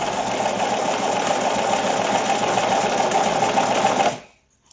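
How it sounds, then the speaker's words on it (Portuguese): A domestic sewing machine stitches 100% cotton knit fabric in one steady, fast, close run of whirring, rattling motor sound, which stops abruptly and leaves near silence at the end. "Agora, eu vou passar uma costura como a gente faz um tecido plano"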